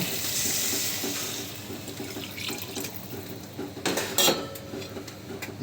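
Broth poured into a simmering rui fish and taro curry, with liquid splashing and pan clatter near, a louder burst of sloshing toward the end; no talking.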